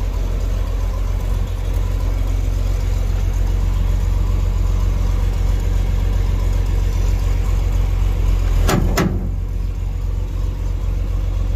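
A combine harvester engine runs with the PTO engaged, a loud, steady, close droning rumble that holds throughout, with a brief sharp knock near the end.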